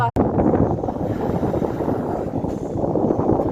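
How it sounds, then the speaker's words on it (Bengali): A cool wind blows past the microphone as a loud, continuous rumbling buffet that swells and dips slightly, with a brief click near the start. "আর এদিকে একটু হালকা ঠান্ডা ঠান্ডা হাওয়া দিচ্ছে।"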